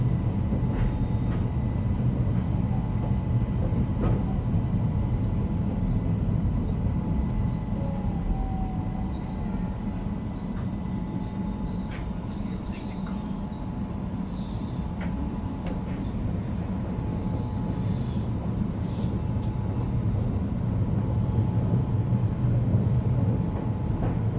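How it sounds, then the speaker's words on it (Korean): A Kyoto subway train runs slowly along a street-level track in the middle of a road, a continuous low rumble and hum with faint clicks, steady and fairly loud. "도로 중앙을 달리고 있는 교토 지하철 아주 천천히 달리고 있고요"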